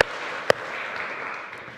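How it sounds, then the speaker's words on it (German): Applause from a church congregation during a worship service, a steady wash of clapping with one sharp clap standing out near the start, moderately loud and without voices. "Auch ein Applaus."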